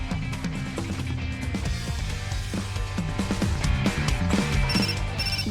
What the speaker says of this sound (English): Just then, I heard a ringtone chiming from Rendo's coat pocket.